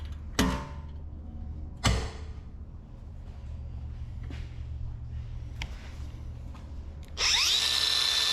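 Cut-off wheel on a 1962 Chevrolet C10 truck project bites into old wiring, with a few sharp bursts followed by a loud, sustained high-pitched grinding whine at the end.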